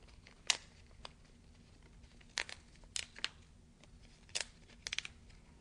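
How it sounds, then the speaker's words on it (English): Perforated tape is torn along its lines, a few short, crisp rips and crinkles spaced out in quiet, close and faint with no talking. "turn it over, and tear along the black lines where the tape is perforated"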